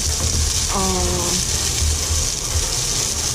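Onion sautéing in a pan for Bicol-style kansi gives a steady, close sizzle and frying hiss throughout, with a brief stirring scrape partway through and no one speaking.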